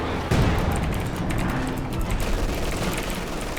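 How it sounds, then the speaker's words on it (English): A field artillery barrage mixed with machine-gun fire in a war video game: a dense, continuous roar of overlapping booms and rapid shots, steady and loud throughout, with a sharp blast near the start. "Nice with the field artillery barrage."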